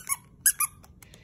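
A rubber dog toy squeaks sharply a few times up close, short high-pitched bursts separated by brief gaps with quiet in between.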